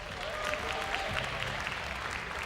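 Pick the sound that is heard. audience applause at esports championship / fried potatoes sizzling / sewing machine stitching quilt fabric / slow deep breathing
audience applause at esports championship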